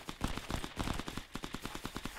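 Rapid bursts of submachine gun fire in the World War II shooter Hell Let Loose, a fast rhythmic string of sharp shots repeating steadily, fairly loud and close with no talk.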